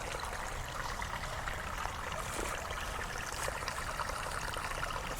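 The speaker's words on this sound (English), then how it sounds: "Water falling off the hill, making its way south, following the lay of the land." A stream flowing off a Scottish hillside over small rocks and boulders, a steady close trickling and babbling that continues evenly with no voices.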